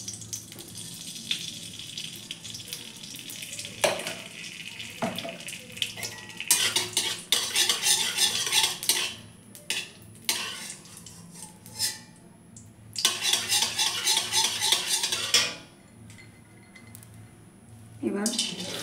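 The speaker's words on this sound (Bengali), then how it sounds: "প্রথমে কড়াইয়ে ঘি দিয়ে দিচ্ছি।" Ghee heats in a kadai (wok) while a spoon stirs it, ahead of making semolina halwa with date-palm jaggery: a low, steady sizzle broken by repeated loud bursts of metal scraping and clatter.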